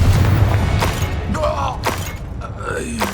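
A Confringo spell blast goes off in Hogwarts Legacy, a loud booming burst over a low rumble, followed by creaking, whooshing magical effects and brief scattered impacts.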